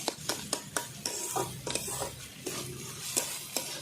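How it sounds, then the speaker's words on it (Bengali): Beetroot fries in a pan with a constant soft sizzle, broken by repeated sharp scrapes and taps of a utensil stirring against the pan at an uneven rhythm. It sounds close and moderately quiet, with no talking. "আমি ভিটের ভাজা করছি"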